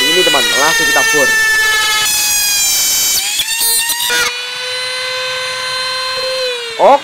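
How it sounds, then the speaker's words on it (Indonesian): A power drill whines at a high, steady pitch, changing tone as it bores into a brush handle, with a few short speaking bursts at the start. "jika sudah kita akan mengebornya menggunakan mata bor seperti ini"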